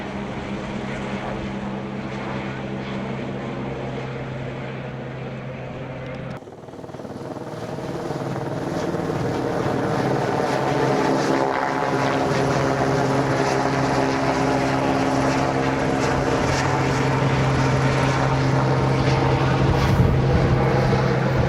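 A helicopter airlifting supplies out of Big Sur holds a steady rotor drone, its pitch rising and growing louder partway through as it lifts, a continuous nearby thrum with no talk.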